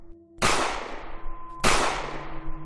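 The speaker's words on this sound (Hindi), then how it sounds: "तभी उसे गोलियां चलने की आवाज आती है" Two sharp, loud bangs about a second apart, each with a long ringing decay, over a faint background hum.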